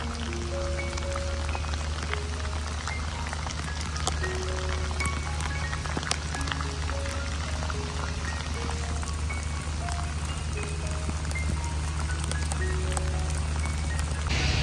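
Heavy rain pours steadily and evenly around Yog Setu by the Mandovi river in Panjim, Goa, a dense, loud hiss that holds unbroken throughout with no voices.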